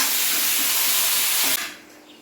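Coriander leaves hit hot ghee for chicken biryani, a loud, dense hiss that holds steady for about a second and a half, then abruptly drops to a fainter sizzle.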